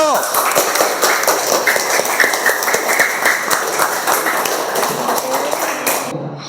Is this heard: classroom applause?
yes